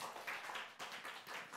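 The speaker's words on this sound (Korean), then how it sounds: "박수 쳐주세요." A Sunday school audience at a church award presentation claps faintly in a short, quick patter of hand claps from some distance.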